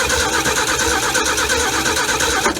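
The engine of a 1968 Ford F100 pickup, left forgotten in the woods for 20 years and with a rotted fuel pickup, cranks over loudly and continuously with a steady rapid chugging whir, close by.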